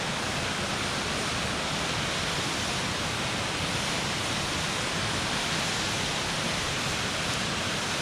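A waterfall pours in cold 18-degree outdoor weather, a constant broadband rushing roar with no breaks, steady and fairly close, with no voices.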